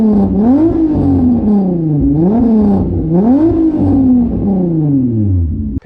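A VR5 engine swapped into a VW Golf 3 revs hard and repeatedly, the pitch climbing and falling in several loud, close throttle blips with a growling, angry tone, no voices present.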